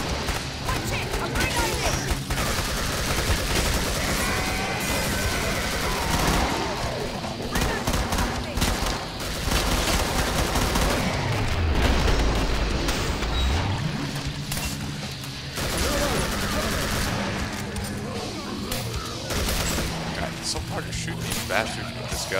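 Heavy gunfire fills the game Killing Floor, rapid automatic bursts and sharp single shots with impacts and crashes, close and loud and almost without pause, while voices talk over it.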